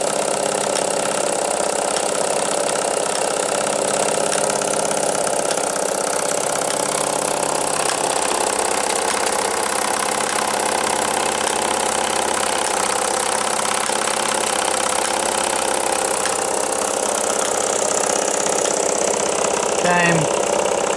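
A Bowman M140 model engine on its first run, chugging steadily and loudly up close for the whole stretch, with no break in its even, buzzing rhythm.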